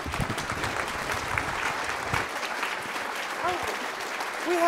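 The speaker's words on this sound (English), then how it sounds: "a big round of applause for Maya Jasanoff" An audience at a literary festival talk claps for an author, a full round of applause that starts loud and dense, then thins and fades out partway through, leaving scattered claps and faint murmurs.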